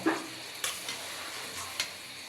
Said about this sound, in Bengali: এই যে ঝোলটা বলকায় গেছে